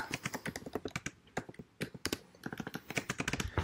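Fast typing on a computer keyboard, a steady run of crisp close key clicks with a brief pause midway, quiet and without voices.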